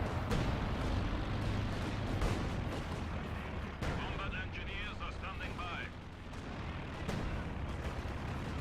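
An aircraft strafing run hits the battlefield in Company of Heroes 2, heavy rolling bursts of gunfire and booming impacts crashing over each other, loud and continuous, with a commentator talking over the din.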